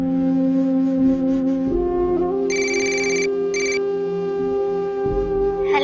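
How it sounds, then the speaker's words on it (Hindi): Telephone ringing while a call is placed in a Pakistani TV drama, a loud electronic ringtone with repeating tonal chirps and steady melodic tones, alone without talk. "चलो निम्रा कॉल करते हैं।"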